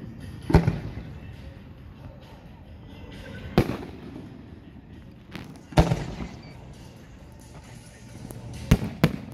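Fireworks show after a Saltdogs baseball game, with four sharp booming bursts spaced a few seconds apart over a steady low rumble of crowd and ambience.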